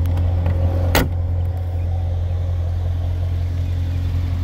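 A 2017 Corvette Grand Sport V8 running loud and close, a deep steady rumble with a brief sharp burst near the start, no voices.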